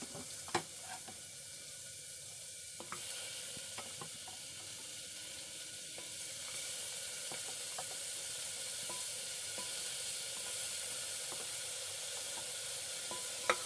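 Tomatoes frying in a pan for soup, a faint, steady sizzling hiss with a few soft clinks of stirring, no talking.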